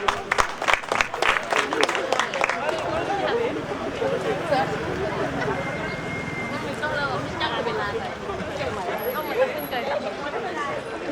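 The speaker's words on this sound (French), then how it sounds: "Applaudissez monsieur Diallo." Applause for a French teacher, Monsieur Diallo, at a mosquito-net distribution in Ouakam, a burst of loud clapping from a crowd that gives way to lively chatter and shouting voices.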